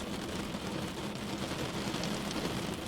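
Soft, steady patter of rain, an even hiss with no voices, continuous for the whole stretch.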